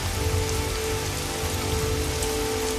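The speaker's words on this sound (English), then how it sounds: "Rain begins to fall." Rain falling on forest leaves and soil, a steady close patter of large drops forming a dense, even hiss with scattered individual hits, continuous and alone without any voices.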